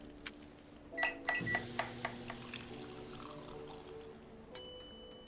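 Coffee machine brewing in the game Coffee Talk 2, soft pouring and liquid gurgles punctuated by small chimes and clicks, fairly quiet, ending with a brighter ding.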